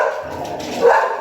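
Dogs barking at a home, a few close, fairly loud yapping barks over a second or so, alone without talk.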